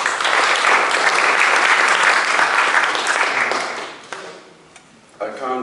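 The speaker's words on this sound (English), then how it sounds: "Give him an applause," A panel-session audience at the ISSS 2017 conference breaks into sustained applause that fades after about four seconds. A voice then starts speaking near the end.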